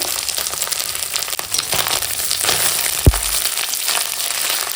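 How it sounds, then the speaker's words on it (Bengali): Fish frying in oil for a Bengali home-cooked dish, a steady close crackling sizzle throughout with a brief sharp knock near the end. "এখন মাছটাকে সুন্দর করে ভেজে নিচ্ছি"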